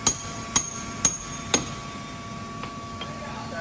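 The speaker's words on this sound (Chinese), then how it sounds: "放个轴承，要真用工具把它敲下去。" Four sharp metallic hammer strikes land about half a second apart as a bearing is tapped into an air compressor air end with a tool, followed by two fainter knocks, with no talking.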